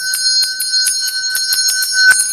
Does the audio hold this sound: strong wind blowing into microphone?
no